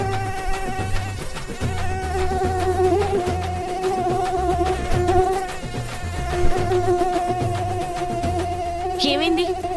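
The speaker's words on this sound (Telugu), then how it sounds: "దోమ డిస్టర్బ్ చేస్తుంది" A mosquito buzzes in a thin, wavering whine that carries on steadily at moderate level, with other background sounds running underneath.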